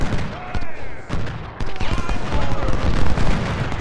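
Cannon and rifle fire from the Civil War strategy game Ultimate General: Civil War, set at the Battle of Malvern Hill, rolls on continuously as booms and crackling volleys, with someone talking over the battle.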